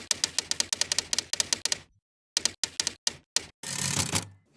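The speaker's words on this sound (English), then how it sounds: "Cut them up, maybe 6 or 7 different variations of a keystroke, and I play a random one when you hit a keystroke." Typewriter keystroke sounds played back from a MacBook: a rapid run of crisp, close mechanical clacks, a short silent gap, a few more separate strikes, then a longer rattling burst like a carriage movement.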